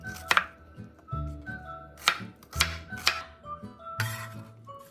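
A knife chops a 110-gram onion, root end removed, into large chunks on a cutting board, about half a dozen crisp, close, evenly spaced thunks.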